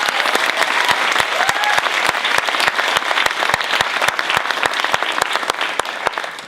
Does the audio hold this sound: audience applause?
yes